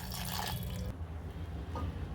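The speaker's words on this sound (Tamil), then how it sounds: "இதுக்கு 1/2 டம்ளர் தண்ணி சேர்த்துக்கிறேன்." Half a tumbler of water poured over jaggery in a saucepan, a close, steady splashing trickle that cuts off partway, leaving quiet kitchen room tone.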